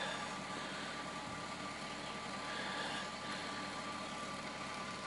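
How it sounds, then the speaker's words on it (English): A Belarus tractor engine runs at a steady idle near a farm shop, a continuous low mechanical drone with no speech over it. "Belarus tractor going."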